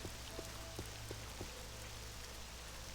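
Steady rain falls in the game Tamriel Rebuilt, a constant hiss of drops with a few sharper patters and taps near the start, alone without talk.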